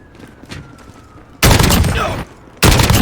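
Assault rifle gunfire in Call of Duty: Modern Warfare: two loud, dense bursts of rapid automatic fire, the first lasting under a second and the second starting right after a short pause, over faint game ambience.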